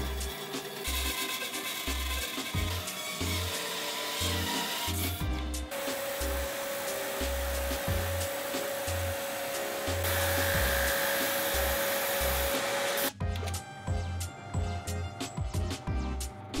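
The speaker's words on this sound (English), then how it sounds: "Then just cutting both the top and the base to a round shape." A power saw cuts a wooden lamp top and base into rounds, giving a harsh whining buzz with a sustained tone in the middle section, interrupted by pauses and bursts.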